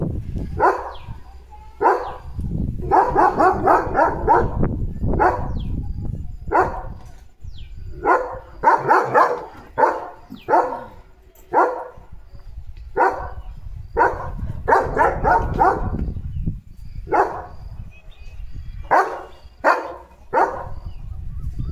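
A German Shepherd barks repeatedly and loudly close by, in bursts of deep woofs separated by short pauses, with low background rumble and little talk.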